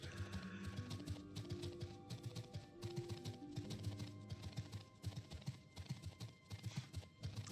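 Quiet, rapid clicking of computer keys, typed in uneven bursts over a faint background hum.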